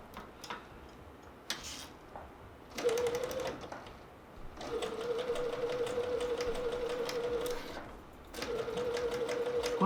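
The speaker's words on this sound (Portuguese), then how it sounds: "Vou para a máquina, costuro." Sewing machine stitching a Shoofly patchwork block, running in bursts with rapid mechanical ticking and a steady motor hum, pausing briefly between runs; close and clear.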